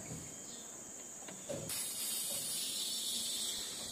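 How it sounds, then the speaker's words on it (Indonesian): Freon refrigerant gas hisses out of a freshly cut freeze box pipe, starting suddenly as a loud, steady high-pitched jet that continues without a break after a few faint clicks. "di sini ada kandungan gas freon yang keluar namun jumlahnya tidak begitu banyak"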